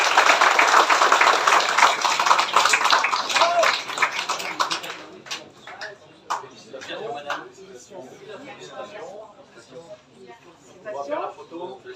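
An outdoor crowd at a carp fishing enduro prize-giving applauds a winning team, dense clapping for about five seconds that thins to scattered claps with talk and cooing pigeons afterward.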